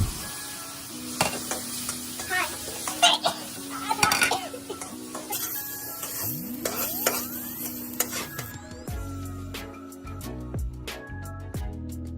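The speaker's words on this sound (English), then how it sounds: "Put oil in a pan. Then put all the ingredients that we prepared and mix it together." Squid with basil stir-fried in a pan, loud crackling sizzle with frequent scraping and clanking of a utensil against the pan, some whistling tones in the background, no talk.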